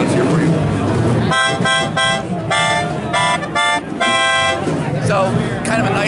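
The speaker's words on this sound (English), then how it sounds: "It sounds kind of like a blend between a harmonica and an accordion" A keyboard wind instrument, played by blowing, with a tone between a harmonica and an accordion, shown at the NAMM 2019 trade show. It plays a string of short, loud, reedy held notes against a constant background of crowd noise.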